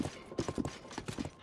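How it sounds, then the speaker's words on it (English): Horse hooves clip-clop in a quick, even trot in the video game Zelda: Tears of the Kingdom, with close, distinct footfalls throughout the short stretch. "We got a horse!"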